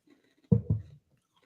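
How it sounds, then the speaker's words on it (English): Two quick crunchy bites, close up, followed by brief chewing, then silence. "Sorry, chewing ice now."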